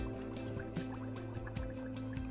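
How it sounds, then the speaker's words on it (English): Carbon dioxide gas bubbling through colourless lime water in a school lab test, quiet repeated gurgling pops and drips over a faint steady hum. "I bubble the carbon dioxide gas through the colourless lime water"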